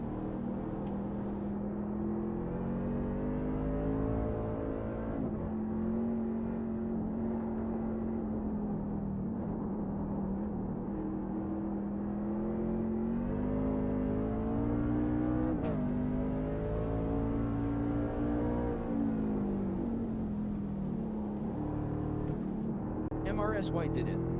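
A NASCAR race car engine drones steadily in a racing video game, its pitch dipping and climbing through gear shifts, with someone talking over it throughout.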